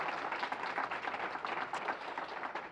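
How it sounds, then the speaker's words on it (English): A short burst of dense clapping rises from diners at a Black History Month awards dinner, many hands together at a steady level. "Let's give them all a round of applause."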